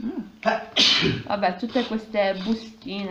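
A person sneezes once, sharp and close, in the middle of casual talk indoors, with rustling of small packets around it.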